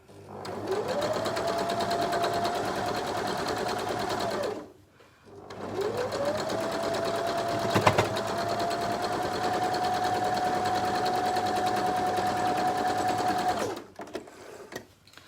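A sewing machine stitches a quilt block seam for an Ohio Star block in two long, steady runs, each spinning up to a fast whir and stopping, with a short pause between.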